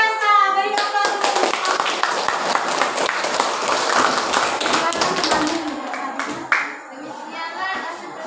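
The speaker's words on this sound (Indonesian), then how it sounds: "beri aplaus untuk" An audience claps for a presentation group in a classroom, a dense burst of hand claps lasting about six seconds before thinning into a few scattered claps, with young voices chattering over it.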